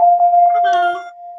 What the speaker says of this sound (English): He's ringing the doorbell at Aurora.